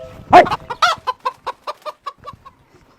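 A chicken clucks close by and loud, opening with two sharp squawks and then a run of rapid, evenly spaced clucks that slow and fade away.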